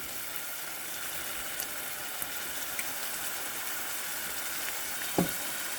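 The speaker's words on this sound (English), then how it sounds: "So we're frying the sofrito in olive oil for a few minutes." Sofrito frying in olive oil in a home kitchen pan gives a steady, soft sizzle with a few faint ticks and a brief louder stir or pop near the end.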